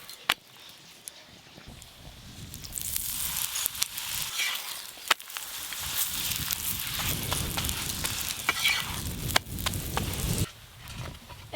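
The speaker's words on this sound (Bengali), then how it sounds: "এই যে আজকের মতো আলুর পরোটা ভাজা শেষ।" Aloo paratha, a potato-stuffed flatbread, frying in a pan at home, giving a loud steady sizzle with a few sharp knocks and scrapes, then dropping away near the end.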